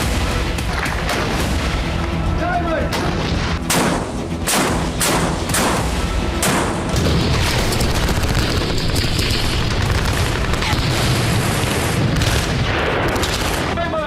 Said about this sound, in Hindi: एक मिनट में 9 धमाके।